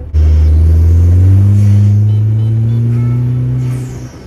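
A 2022 Vanderhall Venice engine revs loud and close while driving, a deep steady drone with rising harmonics that holds for about four seconds before easing off.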